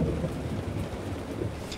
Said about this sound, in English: The thunderstorm that seemed to park over us was loud